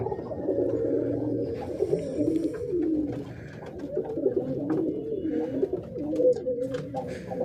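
Pigeons coo continuously at close range in a pigeon house, overlapping low rolling calls with small rustles and faint distant sounds behind.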